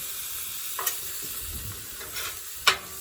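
Onions browning in a frying pan for homemade Philly cheesesteaks give a steady low sizzle, with a few soft stirring scrapes and one sharper clink near the end.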